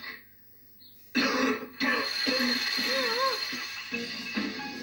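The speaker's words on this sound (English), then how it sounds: "relieve a chesty cough and chest congestion" Several harsh, phlegmy chesty coughs with chest congestion and throat-clearing bursts come close up in quick succession, with brief pauses between them.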